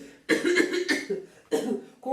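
A person imitates a cough in three short, harsh bursts, each a rough throaty hack separated by brief pauses, close and fairly loud.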